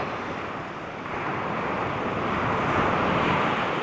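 Waves surging onto the shore at Palapag in Northern Samar, a steady broadband roar of surf with wind noise that swells slightly louder after the first second and holds without pause.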